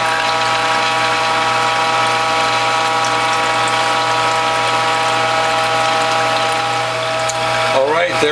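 A WHF Norwalk juicer presses eggplant into juice, its motor giving a steady, loud mechanical hum with a faint ratcheting texture throughout, ending in a brief shifting clatter.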